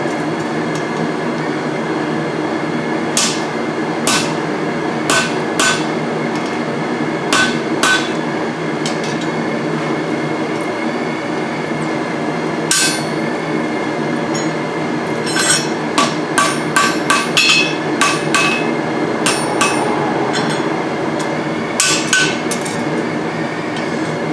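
A blacksmith hammers a piece of hot steel for tongs, sharp ringing blows landing in irregular bursts, sparse at first then quicker clusters, over a constant background hum.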